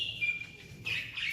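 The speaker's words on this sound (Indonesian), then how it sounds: "Ini kolibri ninja ini." A small kolibri ninja songbird chirps with thin, bright calls in short bursts, moderately close with faint background noise and no voices.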